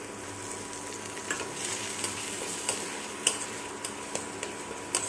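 Tomato paste being stirred into jackfruit and potato curry frying in a pan, a steady soft sizzle with occasional spoon scrapes and light ticks throughout, close and moderately loud, no talking.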